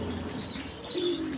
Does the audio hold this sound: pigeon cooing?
yes